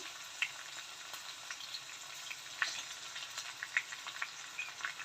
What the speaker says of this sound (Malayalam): ഫ്ലെയിം ഒന്ന് ലോ ആക്കി വെക്കണം ജീരകം ഇഞ്ചി ഇട്ട് കൊടുക്കാം